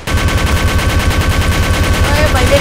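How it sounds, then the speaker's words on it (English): Minigun in Garry's Mod firing a continuous rapid burst, loud and close, the rattle of shots running unbroken for the whole moment. "I have my mini gun here with me."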